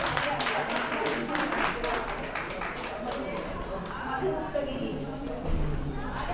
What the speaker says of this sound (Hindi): तालियां बजाया चल जाइए ऐसे बच्ची के